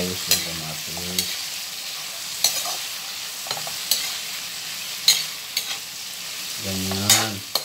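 Tomatoes sautéing in a pan, a close continuous sizzle punctuated by sharp utensil scrapes and taps at irregular intervals, with a few short tonal clinks, no voices.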